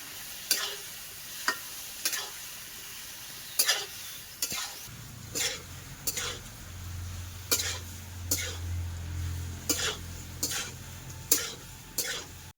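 Unripe jackfruit fried for a vegetarian curry gets stirred in a pan, with about a dozen sharp spatula scrapes and clinks at a steady pace. A low sizzle of frying rises partway through, fairly quiet overall.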